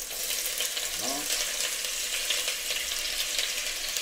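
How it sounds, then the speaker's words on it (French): Chopped onions sautéing in oil in a pan, a steady close sizzle throughout with a brief stir partway through, no talking. "On prend les oignons. Voilà pour l'oignon, on va le mettre à revenir."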